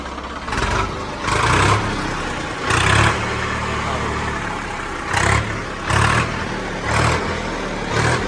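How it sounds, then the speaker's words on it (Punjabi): A 2004 Swaraj 855 tractor engine turns over and runs, its low diesel rumble rising in several loud surges amid a steady idle, with people talking nearby. "ਇਹ ਟਰੈਕਟਰ ਦੀ ਸਟਾਰਟਿੰਗ ਹੈ"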